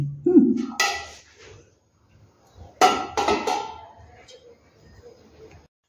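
A metal kadai is washed after curry, with clanks and scraping knocks in two short clusters separated by quiet, close and fairly loud, with faint water in between.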